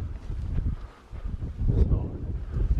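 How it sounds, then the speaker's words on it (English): Wind gusts across the top of a sandy beach dune, buffeting the microphone with a low, rumbling roar that swells and eases over a few seconds, with no voices. "So you can just listen to the wind and enjoy the sand."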